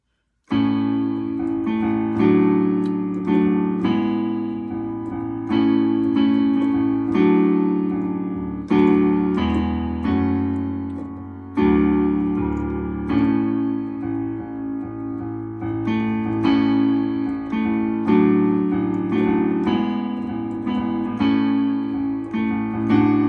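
A piano plays the verse of a song in steady, rhythmic chords with a bass line, carrying on alone without talk for over twenty seconds.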